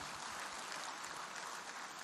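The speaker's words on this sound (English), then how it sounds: "can we give him a round of applause?" Audience applause at a Lagos bankers' dinner, a steady dense wash of clapping from many hands, fairly distant and uniform across two seconds with no voices.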